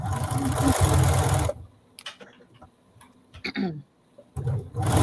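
A Bernina sewing machine stitching in a fast, steady buzzing run that stops abruptly, then a short burst resumes near the end, with speech and quiet handling noises in the gap.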